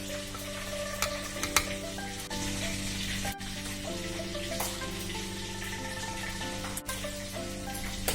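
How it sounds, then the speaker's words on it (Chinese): Crispy sweet and sour pork gets stir-fried with coriander in a wok, giving a steady close sizzle with scattered clinks and scrapes from the spatula. "放入香菜，好，翻炒均匀"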